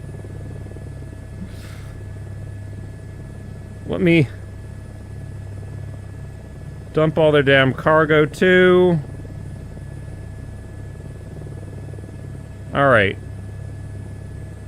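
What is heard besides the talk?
helicopter flying in a VR video game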